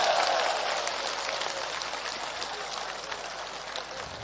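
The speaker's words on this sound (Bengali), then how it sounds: "আমরা রংপুরবাসী জোরে একবার করতালি দিয়ে অভিনন্দন জানাই" Rally crowd in Rangpur applauding at a river protest, a dense, steady wash of many hands clapping at moderate distance, continuous for the whole stretch with no clear voices.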